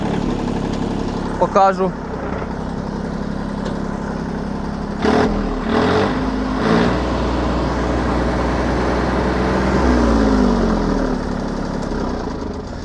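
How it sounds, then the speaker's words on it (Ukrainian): A small ISEKI TU175 tractor engine chugs steadily at idle while running a rotary tiller, close and continuous, with brief clanks and a man's short remark near the start. "І давайте ще запустимо ґрунтофрезу."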